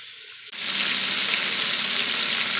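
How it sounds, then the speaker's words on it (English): Honey mushrooms hit a hot pan and break into a loud, steady sizzle after a brief quiet start, the frying hiss holding close and constant with no talk. "I'll actually come back while I'm sauteing these"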